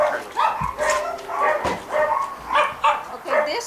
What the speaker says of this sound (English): where we show our small breed dogs